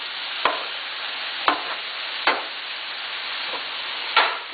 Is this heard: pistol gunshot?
no